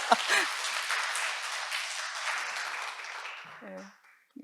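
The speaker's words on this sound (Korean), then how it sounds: "다시 한번 박수 주세요." Audience applause at a lecture-concert with a string quartet, steady clapping from a hall crowd that swells briefly and tapers off, followed by a speaking voice.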